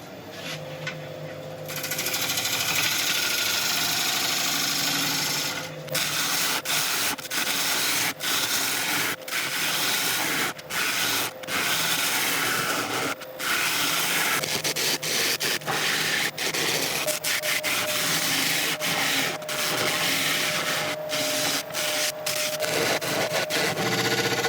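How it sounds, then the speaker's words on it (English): A wood lathe turning a tenon on a bowl blank: continuous loud scraping and rushing of the tool against spinning wood, with repeated short breaks and catches over a steady motor drone. "I'm going to start turning this back in and start creating a tenon."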